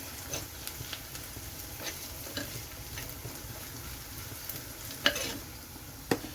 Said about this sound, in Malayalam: മഞ്ഞൾപ്പൊടി ചേർത്തിട്ട് ഒന്ന് ഇളക്കി കൊടുക്കാം